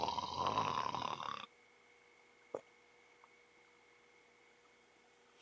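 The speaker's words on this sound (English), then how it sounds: "Still hearing the snoring" A single loud snore, a harsh rasping burst lasting over a second, heard close in a video game scene, followed by a quiet hum and a faint click.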